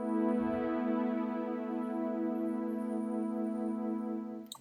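A Warm Fuzzy synth pad built in FL Studio plays alone as one steady sustained chord, soft and even throughout, fading out at the very end with no voice over it.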